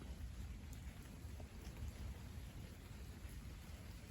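Rain falls steadily at the tail end of a summer thunderstorm, with a deep low rumble of thunder rolling beneath the hiss of the downpour throughout.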